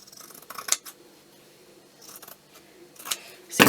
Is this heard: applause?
no